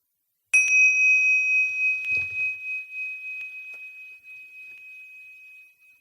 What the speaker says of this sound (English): When you hear the bell, we can begin.